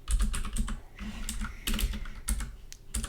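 Close, brisk typing on a computer keyboard while entering Ruby code, bursts of clacking keystrokes separated by brief pauses, with no voice.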